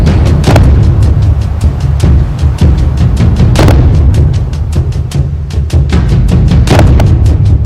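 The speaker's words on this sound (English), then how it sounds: "I shall have my artillery fire and my cavalry charge." Loud, dense artillery fire from a Napoleonic-era battle, with a rapid run of booming cannon shots at irregular intervals over a constant rumbling roar.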